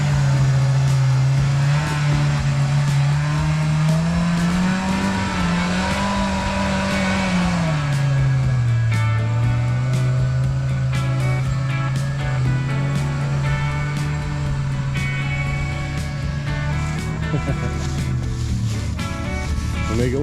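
A Can-Am Pro R off-road side-by-side engine drones steadily and loudly up close, its pitch rising and falling slightly throughout while riding off-road in Rush, Kentucky.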